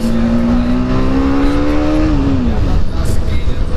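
A car revving hard and accelerating in a small street drag race, a loud close engine note climbing steadily in pitch before dropping off as it shifts or eases, with road noise throughout.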